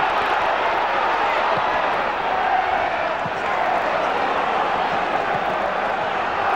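A packed football stadium at a 1993-94 Middlesbrough match against Millwall sends up a loud, sustained roar of crowd noise, with a commentator speaking over it.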